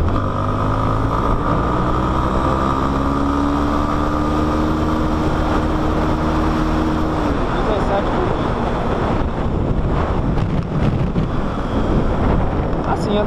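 A Yamaha XTZ 250 Lander motorcycle pulling hard in third gear, its engine whine climbing steadily under heavy wind buffeting, then falling away into rough rushing wind noise.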